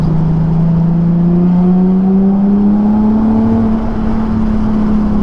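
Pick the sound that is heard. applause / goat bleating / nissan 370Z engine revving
nissan 370Z engine revving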